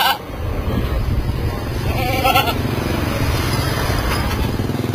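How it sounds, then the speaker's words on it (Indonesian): Goats bleat in a goat pen in short, wavering calls, partly masked by steady loud broadband noise resembling an engine. "Detektif Fajar sampai masuk-masuk kandang kambing tuh"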